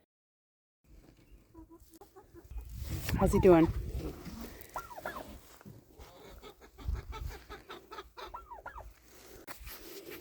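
Hens clucking around a turkey while pecking at its feathers in a farm coop, a chicken in the flock giving short near clucks and squawks, with a louder flurry of calls near the start, under a person's talk.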